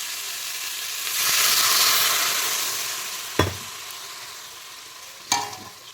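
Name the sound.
frying and stirring fish curry in a wok, water added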